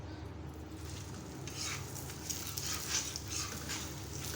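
Desi ghee sizzles on a paratha in a hot pan, a steady close frying hiss with faint crackles building slightly over a few seconds.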